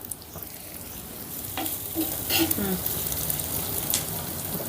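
Green chillies fry in a pan over a medium flame, a soft continuous sizzle with a few scraping stirs, close and moderately loud.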